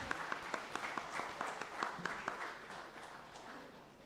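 An audience at a finance seminar's inaugural function applauds with a fairly sparse, rhythmic clapping that swells briefly and then fades out over a few seconds.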